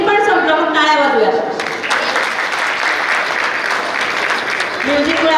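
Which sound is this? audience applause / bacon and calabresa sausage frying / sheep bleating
audience applause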